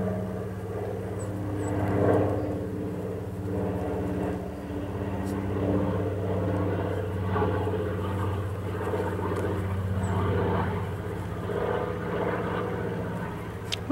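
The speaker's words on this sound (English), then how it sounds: "are all listening to the plane going overhead." A steady low engine drone hangs in the air throughout, like an airplane passing overhead at a distance, with faint voices murmuring underneath.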